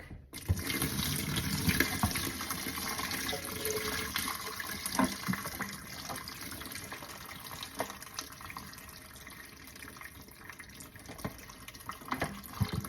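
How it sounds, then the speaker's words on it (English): Water poured off thawed pork chitterlings into a kitchen sink, a steady splashing, running stream that continues close and fairly loud for about thirteen seconds with no talking. "So now what I do is I will pour this water off into the sink."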